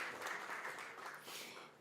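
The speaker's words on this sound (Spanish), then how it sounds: "Fuerte el aplauso" Applause from an audience at an education congress on a campus, a dense steady wash of many hands clapping at moderate distance, slowly fading toward the end with no talk.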